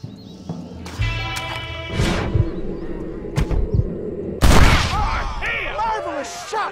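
Gunfire in the Western video game Red Dead Redemption: a few sharp shots mixed with horse hooves, whinnies and game voices, ending in a loud burst of action near the close.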